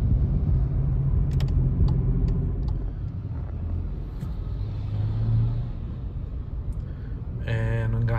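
A 2023 VW Polo 1.0 MPI drives through city traffic in fourth gear, its steady low engine rumble and road noise continuous inside the cabin, rising slightly midway, with a short tone near the end.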